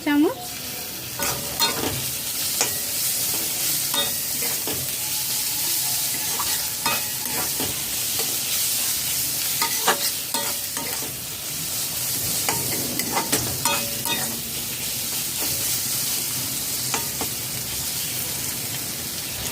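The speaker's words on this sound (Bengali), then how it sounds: "লো টু মিডিয়াম ফ্লেমে তিন মিনিট কষিয়ে নিয়েছি" Spices for a taro stolon and Bombay duck curry sizzle steadily in hot oil over a low to medium flame, with frequent scraping stirs of a spoon in the pan, close and continuous.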